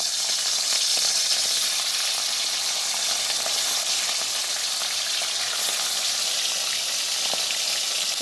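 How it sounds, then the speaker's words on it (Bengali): Rohu fish pieces fry in hot oil in a wok, giving a constant bright hiss of sizzling that stays even and close throughout. "আমি এখন একে একে মাছগুলো দিয়ে দিব কড়াইয়ে"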